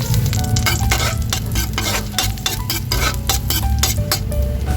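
Garlic sizzles in hot oil in a wok, a bright, steady frying hiss under repeated sharp scrapes and clinks of a utensil stirring against the metal pan, close and loud throughout.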